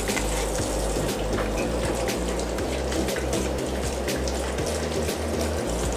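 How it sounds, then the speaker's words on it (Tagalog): Tap water runs steadily into a kitchen sink while food is rinsed, a continuous broadband rush with small splashes and knocks from handling, loud and close with no talking. "Ngayon, huhugasan muna natin ito dito sa aking sink."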